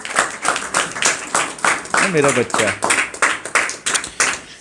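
At a Christian home prayer meeting, a congregation claps in a brisk, even rhythm, sharp beats repeating steadily while someone speaks loudly over the clapping.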